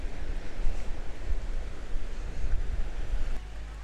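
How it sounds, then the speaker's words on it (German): Sea surf rolls in a steady, full roar around the Similan Islands in Thailand under overcast, breezy weather, with wind buffeting the microphone and no voices. "da ist das Meer"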